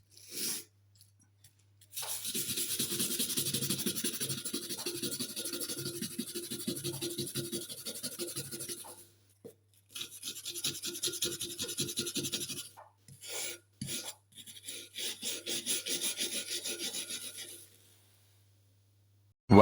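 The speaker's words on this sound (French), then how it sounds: "un petit passage à la brosse" Wire brush scrubbing a metal horseshoe during restoration, rasping in long close strokes with short pauses between passes, loud and alone without talk.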